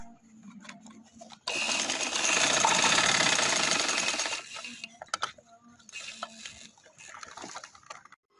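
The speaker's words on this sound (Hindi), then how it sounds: "अब इधर किनारे किनारे पे आप सिलाई लगा लें ताकि ये अच्छी तरह ये कटान बैठ जाए।" A sewing machine runs a seam along the edges of a pillow cover in one loud continuous burst of a few seconds, followed by softer clicks and handling noises of the fabric and machine.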